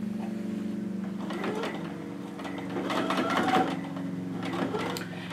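A sewing machine stitches a cloth doll from a Vogue Craft pattern, its needle running in a steady mechanical hum with short bursts and pauses as the seam is sewn and pivoted, close up with no voices.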